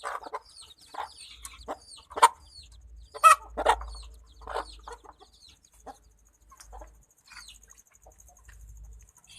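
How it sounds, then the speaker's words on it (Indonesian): A native village chick caught stuck in something cheeps loudly in sharp, repeated shrill calls, with other chickens clucking softly nearby and a low hum underneath. "ini ada anak ayam yang berteriak-teriak"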